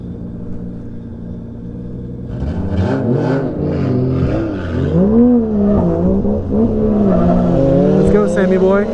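Subaru WRX STI accelerating hard in pursuit of another car, a loud close engine note rising and falling through revs and gear changes, with engine sound continuing steadily throughout.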